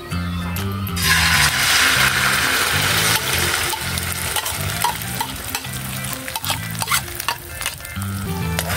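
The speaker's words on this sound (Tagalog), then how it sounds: "ilagay na po natin itong hinalo na Carne Norte at saka itlog" Corned beef and egg mixture sizzles loudly in hot oil, a steady frying hiss with repeated clanks of a utensil stirring and scraping the pan, no voices.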